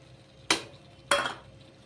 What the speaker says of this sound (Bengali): এবার চিকেনটাকে আরেকবার একটু নেড়ে চেড়ে দেবো